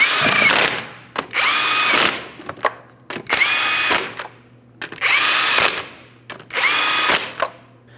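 A power tool spins 19mm lug nuts onto a rear wheel of a 2007-2014 Ford Edge, five loud close whirring bursts, each about a second long, separated by short pauses with faint clicks.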